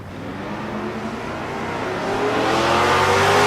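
Drag racing cars, a Camaro and a Nova, at Tulsa Raceway Park, a loud steady engine roar that rises and builds in intensity toward the end with no talk.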